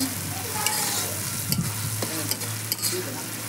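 Cumin, peppercorns, cinnamon and bay leaf fry in hot oil in a kadai for mutton curry, giving a steady close sizzle with a few stirring scrapes and small pops, no voices.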